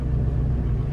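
Car engine rumble heard from inside while driving, a brief, steady low drone with no voices.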